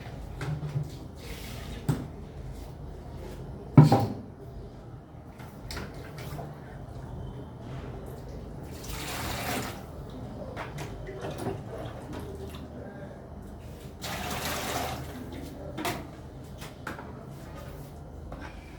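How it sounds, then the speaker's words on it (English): A bucket is rinsed out with water during liquid soap making, with intermittent splashes, drips and sloshes, a louder knock early on and bursts of running water, all fairly quiet with no talking. "I'm going to rinse off this bucket"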